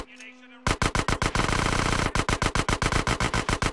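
Rapid bursts of automatic gunfire from a weapon fired at a shooting range in the video game GTA San Andreas: a loud sustained volley, then evenly spaced quick shots, close and continuous with no talk.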